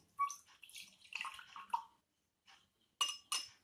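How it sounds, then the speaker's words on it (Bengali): Yellow solution is poured into a glass container in an indicator colour-change experiment, heard as brief splashing pours and light glassy clinks in short bursts separated by silence. "আমি প্রথমে একটা এই যে ইয়েলো কালারের সলিউশন রয়েছে এটাকে মাঝেরটায় ঢেলে দিচ্ছি"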